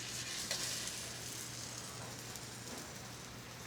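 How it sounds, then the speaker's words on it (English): A curry pork burger sizzles and fries in a hot pan, a steady crackling hiss heard up close and alone with no talking. "just hang out for a second with that sizzle"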